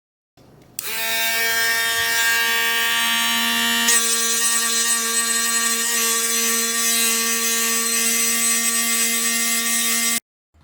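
A loud, continuous high-pitched whine and buzz of a Drill Master rotary tool engraving a stainless steel tumbler, steady for about ten seconds with a slight shift partway through.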